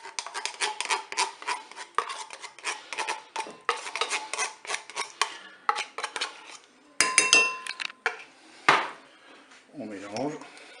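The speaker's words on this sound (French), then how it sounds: "je vais mélanger le lait concentré avec les œufs" Condensed milk and eggs are beaten in a bowl with a utensil, producing rapid scraping clinks in bursts with short pauses and a few sharper knocks, followed by a brief voice at the end.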